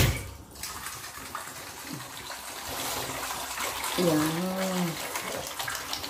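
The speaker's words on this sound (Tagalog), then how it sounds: "Hold on, here's the water." Water poured into a bowl for dogs outdoors, a close gushing, splashing flow running for several seconds while someone speaks over it.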